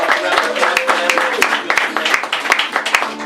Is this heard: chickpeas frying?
no